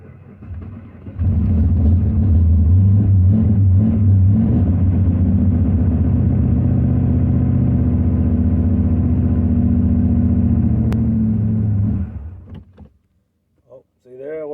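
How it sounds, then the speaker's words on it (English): A carbureted engine cold starts and settles into a steady, loud idle with a low, even drone that runs for about ten seconds before cutting off, leaving brief quiet and a short noise at the end. "as soon as it fires, I'm going to pat this gas just a little bit just to keep it running"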